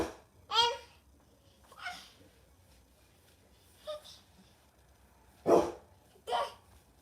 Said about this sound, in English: he's barking because he hears something outside